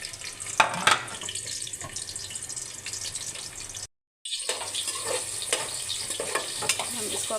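Onions fry in ghee for chicken macaroni, giving a dense close sizzle with scraping stirs, a brief dropout in the middle, then the frying hiss resumes steadily to the end.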